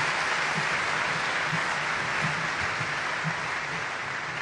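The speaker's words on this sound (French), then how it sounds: "je voudrais qu'on applaudisse très fortement la première dame de la République." An audience at an awards event applauds the first lady, a dense, even wash of clapping throughout with faint low voices beneath.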